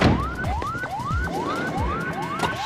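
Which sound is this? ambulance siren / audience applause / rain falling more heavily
ambulance siren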